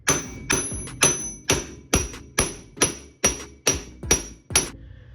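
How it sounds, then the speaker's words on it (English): Steady hammer blows on the wheel hub of an MK1 VW Rabbit, struck out to replace the wheel bearings without a press: about eleven loud, ringing metallic strikes at an even pace, each decaying quickly, with no talk. "quite a lot of hammering later, we have removed the actual hub here"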